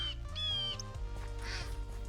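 Ducks in a Minecraft spruce forest give a few short, nasal quacks over a constant game background hum, fairly close, with no voices.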